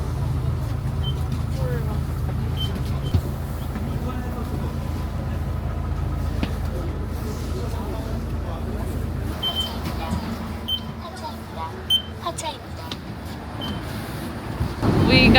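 A city bus rolls through crowded New Year's traffic in Korea at night, with a steady low engine rumble and road noise, occasional clanks, and people talking throughout.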